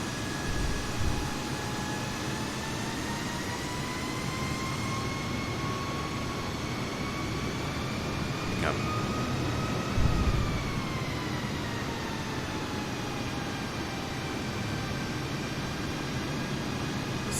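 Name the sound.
A320neo taxiing in the video game Microsoft Flight Simulator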